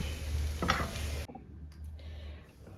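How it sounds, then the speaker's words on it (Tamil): Hot lemon sevai being stirred in a pan off the heat, a soft scraping swirl with faint sizzle that stops partway through, leaving a quiet low background hum. "இது வந்து நல்ல சூடு, இந்த சூட்லேயே நல்லா மிக்ஸ் பண்ணிடலாம்"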